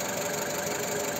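A car engine idles after a repair meant to fix rough-idle shaking, giving a steady, continuous mechanical hum and light knocking with no talk over it.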